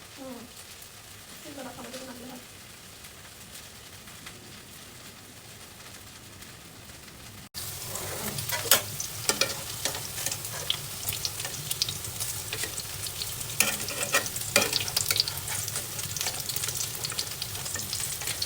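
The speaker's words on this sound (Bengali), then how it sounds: "পটল আর আলুটাকে সুন্দর করে ভেজে নেবো" Pointed gourd and potato pieces fry in an oiled pan in a home kitchen, first a quieter stretch with a voice talking, then a louder, steady sizzle with scraping stir clatters near the end.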